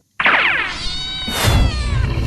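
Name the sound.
cat meowing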